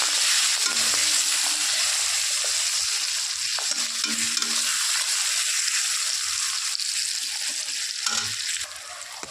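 Steady sizzling of masala with tomato and green chillies frying in a pan, with occasional stirring scrapes, a continuous close hiss throughout with no talking.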